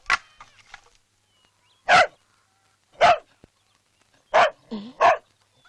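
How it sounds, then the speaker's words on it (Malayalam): Night-time dog barking: four sharp, loud barks arrive at irregular intervals, about a second apart, with short fainter yelps and whimpers before them and quiet gaps between. "പട്ടി ഇത്ര കുരയ്ക്കത്തില്ലല്ലോ"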